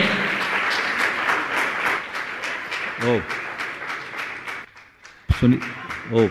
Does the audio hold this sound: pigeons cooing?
no